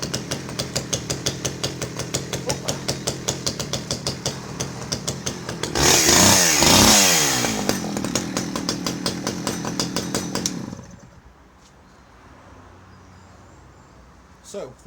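A vintage German Stihl 010AV 37cc chainsaw runs close by with a rapid two-stroke buzz, revs up loudly for about two seconds, settles back to a steady run, then cuts off and leaves near silence.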